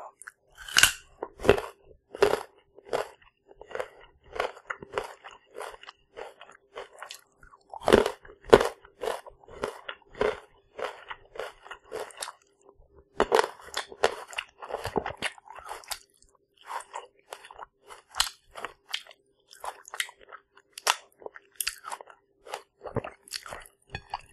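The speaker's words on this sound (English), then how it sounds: "the crunching sound was the sound of the bones snapping in my mouth" Crunchy peanut butter toasties being chewed close to the mic, a series of sharp, dry crunches in irregular bursts with short quiet gaps, rising in a few denser clusters.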